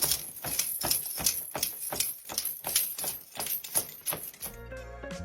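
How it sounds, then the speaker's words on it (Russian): Foley horse hooves are made by striking a hard object on the ground, giving a steady, close clip-clop rhythm of about a dozen sharp knocks that ends abruptly. "работают над копытами, ударяя твердым предметом о землю в такт движением лошади на экране"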